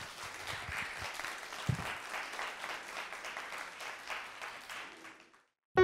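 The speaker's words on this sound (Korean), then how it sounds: "박수로 일부를 마치도록 하겠습니다" Audience applause closes the first part of a public lecture, a sustained crowd of clapping for about five seconds at moderate distance, then cutting off abruptly.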